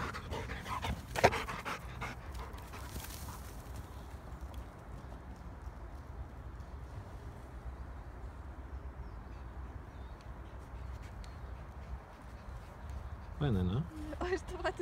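Mona, a dog, pants steadily while running outdoors, her breathing mixed with rustling footfalls and wind, with a person's voice briefly heard near the end.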